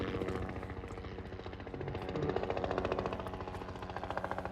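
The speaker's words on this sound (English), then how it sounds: "So there's the helicopter." Helicopter passing overhead during a hike near Griffith Observatory in Los Angeles, a rapid, steady rotor chop that swells louder toward the middle and stays strong throughout.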